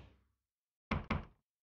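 Two quick, heavy knocks land on a morgue door inside the VRChat horror game, close and loud, following a fading rumble, with no talk.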